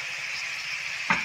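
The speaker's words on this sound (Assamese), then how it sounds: "এতিয়া ইয়াতে পানী দিম ৰ'ব," Faint steady frying sizzle from a pan of sour tenga curry, then a sudden brief splash and hiss as water is poured in near the end.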